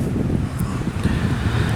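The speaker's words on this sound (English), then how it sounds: "it's a bit windy here" Strong wind blows steadily across an outdoor microphone, a continuous low rumbling buffet with no pauses, loud and close throughout.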